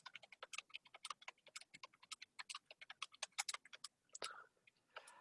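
Rapid typing on a computer keyboard while entering a list of test scores, a dense quiet patter of individual key clicks at an uneven pace, close by and fairly soft.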